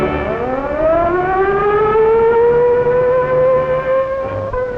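Across the Lower Mainland of Canada, a large civil defense air raid siren system sounds a warning wail, its tone sliding steadily upward and holding high, loud and clear over a faint background hum.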